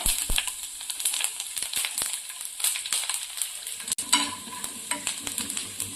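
Grated coconut fried in oil in a pan while being stirred: a faint, steady sizzle underlies repeated scraping and clinking strokes of a spoon against the pan, close and irregular, with no speech.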